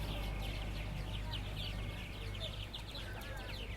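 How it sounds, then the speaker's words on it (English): Birds chirp and call busily in the background at EPCOT, with clucking fowl-like calls among them, over a low steady hum. "You hear a lot of birds."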